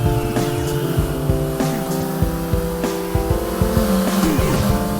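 A steady, buzzing motorcycle engine drone in a mobile video game revs continuously with layered tones rising and falling, set against music.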